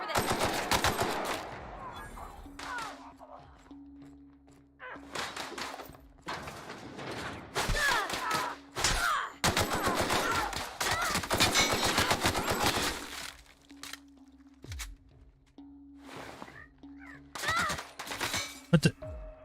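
Gunfire in The Outer Worlds video game rattles out in several loud, rapid bursts of shots, separated by short pauses, with a voice talking now and then.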